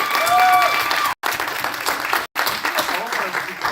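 Applause from an audience at a speakers forum rings out loudly in a dense, steady clatter of clapping, cut by two brief dropouts, with a tone sounding at the start.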